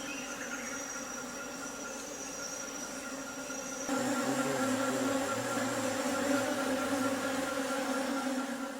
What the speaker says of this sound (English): We were found by the forest bees, which stay with us for almost a whole day